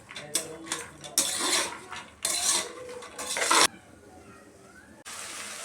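Lentils and onions fry in a pan while a utensil stirs them, scraping and clattering in loud bursts with quieter gaps between them and a steady sizzle underneath.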